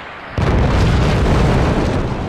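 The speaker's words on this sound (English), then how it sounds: "Here go the missiles." Missiles explode in the video game Forts, with a sudden loud, booming blast that rolls into a sustained, dense rumble lasting about two seconds.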